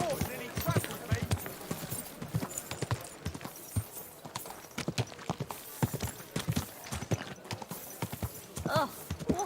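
Horse hooves clop in a quick galloping rhythm in the video game Kingdom Come: Deliverance II, close by, with occasional snorts and a voice speaking over them.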